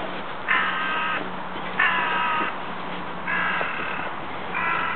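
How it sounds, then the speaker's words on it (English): Crows in a park give several loud, harsh caws in separate bursts about a second long, spaced a second or two apart over a steady outdoor background. "The crows, they need to know when I've got food."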